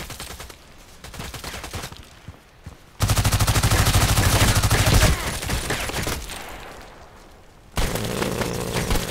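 A PDR-C submachine gun fires in the online shooter Contract Wars: loud, close bursts of fast automatic shots, several rattling strings separated by short pauses, with softer distant shooting between them.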